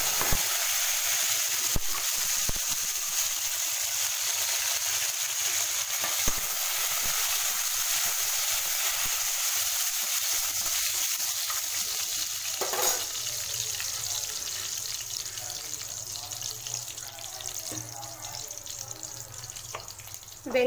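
Mustard seeds, curry leaves, cumin and dried red chillies sizzle in hot oil, a loud continuous frying hiss with occasional stirring and faint crackles throughout.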